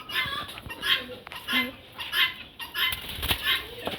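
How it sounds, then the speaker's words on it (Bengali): A captured myna bird flaps its wings in irregular, close bursts of fluttering over several seconds, with faint background sounds between flurries. "একটা শালিক পাখি।"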